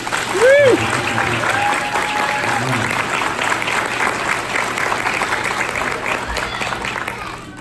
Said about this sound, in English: So let's give all these kids a nice round of applause.